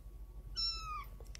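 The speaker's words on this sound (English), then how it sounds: "You guys are big kitties now." A young kitten gives a single clear, high-pitched meow close by indoors, lasting about half a second over a quiet room hum.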